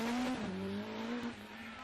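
A rally car at the 2011 Jersey Rally makes a brief, loud engine drone with a hint of tyre scrub during a handbrake turn, lasting under two seconds.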